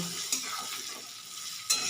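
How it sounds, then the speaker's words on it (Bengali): Cubed potatoes dusted with turmeric fry in hot oil in a pan, giving a steady close sizzle with two sharp scrapes of a spatula stirring them, no voices. "দিয়ে আলুটা একটু ভাজা ভাজা করে নেব।"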